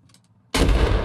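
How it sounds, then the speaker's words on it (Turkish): In the Squad shooter, a grenade thrown into a room explodes with a single loud, close blast after a moment of near silence. "Geliyor, bomba attı içeri."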